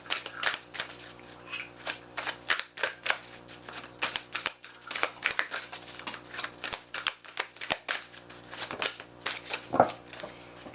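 Moonology oracle cards being shuffled by hand, a run of quick papery riffles and flicks in irregular bursts, close and fairly quiet.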